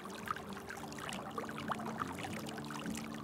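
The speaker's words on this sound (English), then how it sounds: "What creek are we crossing here?" Water trickling and splashing as a wolf wades across a creek in the video game WolfQuest, set in Yellowstone's Black Canyon; steady soft pouring and dribbling with faint game ambience, no talking.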